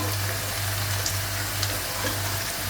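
A chickpea and potato curry cooks in a pan with a constant close sizzle and bubbling, steady throughout over a low background hum, no voices.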